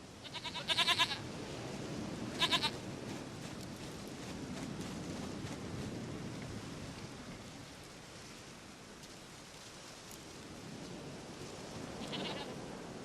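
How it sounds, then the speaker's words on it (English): A goat bleats in The Witcher III: Wild Hunt, with two short bleats near the start and another near the end over a steady rain-like hiss of game ambience, moderately loud and without talk. "Goat of mine, dearest, sweetest goat."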